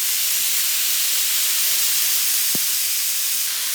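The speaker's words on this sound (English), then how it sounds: "I'm gonna go ahead and put this into the meat mixture, and we're gonna get this sauteed in with the meat." Spinach sautéing into a lasagna meat mixture produces a loud, even hiss with one brief knock of a utensil partway through.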